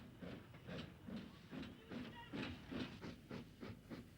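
A grimy Austerity steam locomotive at Pontarddulais in West Wales pulls out with an empty colliery train, giving a steady rhythmic chuffing of regular exhaust beats over a rumbling, hissing background.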